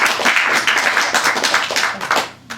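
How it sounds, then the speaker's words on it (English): A small audience at a poetry reading gives dense, lively applause after the readings, many hands clapping close and loud before it thins out toward the end. "please, one more round of applause for everybody."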